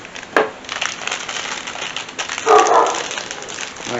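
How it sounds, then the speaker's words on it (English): A dog gives two short barks in a home kitchen, the second louder and closer, against quiet background noise. "My dog agrees."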